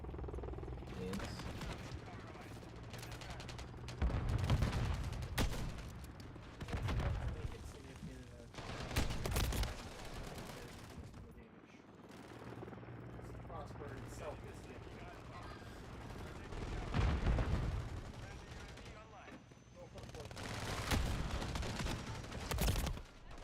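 Gunfire and grenade blasts in a Call of Duty match crackle in repeated loud bursts, rising and falling through the stretch with a dense mechanical rattle underneath.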